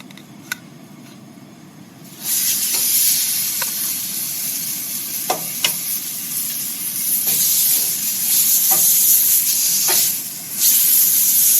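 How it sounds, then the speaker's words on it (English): Steaks sizzle on a grill during winter truck camping, a loud steady hiss that swells as the meat goes on, broken by scattered pops and crackles and the clink of utensils. "I'm gonna go ahead and put the steaks on."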